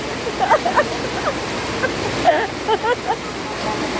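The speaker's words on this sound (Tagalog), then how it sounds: "Lumalakas na naman ang ulan" Heavy rain pours down during a storm in a continuous broad hiss, steady and fairly loud, with a few faint voices and scattered small sounds over it.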